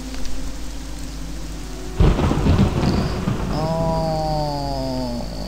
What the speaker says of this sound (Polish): Tutaj niestety także pada deszcz.